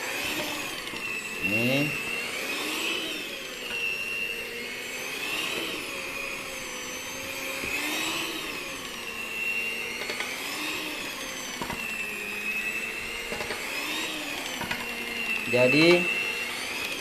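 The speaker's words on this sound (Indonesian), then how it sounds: "untuk mixer jangan ditekan di dalam adonan ya" An electric hand mixer kneading soft potato doughnut dough, a steady close motor whine that rises and dips in pitch as the beaters move, while someone talks over it.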